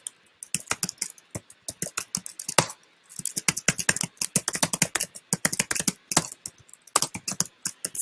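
Code being typed on a computer keyboard during an open-source test-driven development session: fast, close, irregular bursts of crisp key clicks with brief pauses between runs, no voices.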